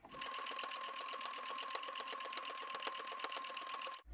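A sewing machine runs steadily while topstitching along the raw edge of a fabric bonnet, a fast continuous rattling hum with even needle ticks, close and loud, stopping abruptly at the end.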